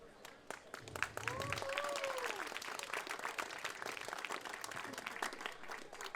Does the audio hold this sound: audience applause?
yes